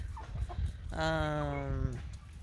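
A single drawn-out hen call, close and clear, rises over low background rumble and faint shuffling in a chicken coop being cleaned.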